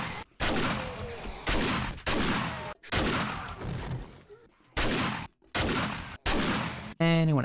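Repeated shotgun blasts in the zombie survival video game 7 Days To Die, about seven loud broadband bursts with short gaps, each decaying quickly, the last followed by a brief tonal game sound.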